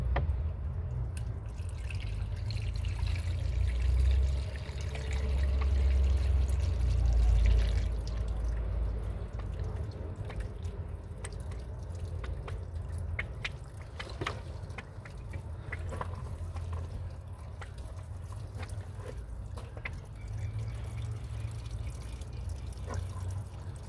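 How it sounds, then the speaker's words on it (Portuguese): Water trickling and dripping steadily into the cooling-system reservoir of a used Fiat Palio during coolant refilling, a close, continuous low splashing flow with scattered drips and no talk. "Vou continuar completando aqui."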